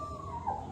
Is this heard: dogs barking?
yes